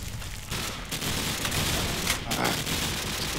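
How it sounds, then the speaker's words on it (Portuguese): Dense, continuous gunfire crackles through a Call of Duty firefight set in Rio's Rocinha favela, a steady wash of shots with no clear gaps. "Tem um cara que tá disparando"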